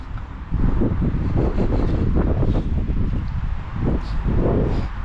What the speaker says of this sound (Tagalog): Malakas ng hangin, pangit pala niya.